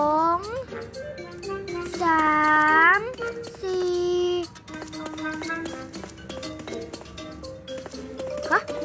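Cartoonish cat meows from the video game PK XD, a few short rising and falling cries near the start over light game music, followed by a voice speaking.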